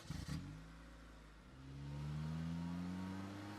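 A car pulls away in an audio drama scene: a brief clatter at the start, then the engine note builds and rises steadily as the vehicle drives off, moderately loud with no talking.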